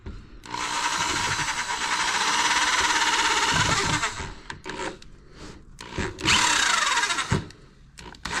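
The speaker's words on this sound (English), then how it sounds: "whoa, drill." A power drill whines loudly and steadily as it bores into homemade wood, stops, then starts again for another short, strong burst.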